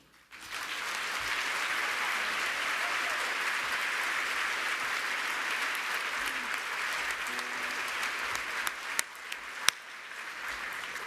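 Sustained audience applause fills a dinner hall at an awards ceremony, steady and dense for most of the stretch before thinning into scattered claps near the end.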